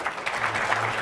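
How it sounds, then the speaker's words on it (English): A tech panel audience applauds, with a short patter of clapping hands that continues through the whole moment. "Give them a round of applause."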